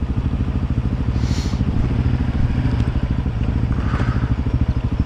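A heavy KTM 690 ADV motorcycle crawls over big rocks, its single-cylinder engine thumping in a steady close rhythm while stones clatter and scrape beneath the wheels.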